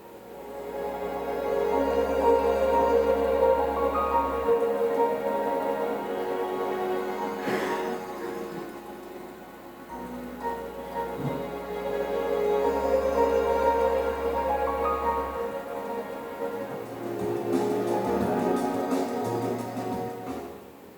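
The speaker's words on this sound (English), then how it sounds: "a really sort of distinctive family of sounds that we've created for this Marantz product" A family of airy, spacey sonic branding tones made for a Marantz audio product: soft sustained pads and chime-like textures swelling and fading over about twenty seconds, with deep low pulses entering at intervals, no voices.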